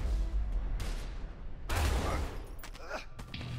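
Gunfire in the co-op video game A Way Out during a jungle fight, several sharp shots in quick bursts over a low rumbling background, with brief voices mixed in.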